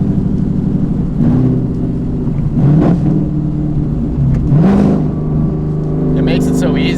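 Car engine revving through quick downshifts on a car with header dumps, a loud droning engine note rising in several blips over a steady rumble.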